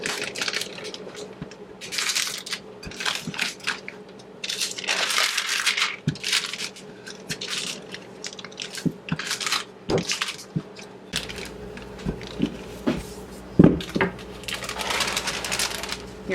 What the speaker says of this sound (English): now we're squishing the colored frozen cookies into the dough